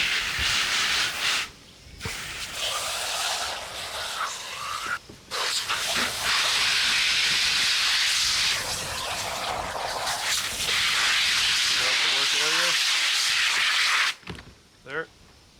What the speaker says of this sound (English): Rinse the carcass out.